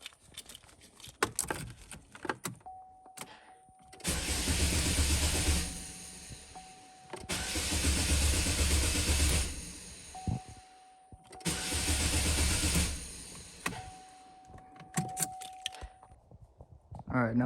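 A 4-cylinder Chevy Malibu with a fuel injector fault cranks three times, each attempt a long churning burst of a few seconds with a steady warning tone between tries, never catching cleanly.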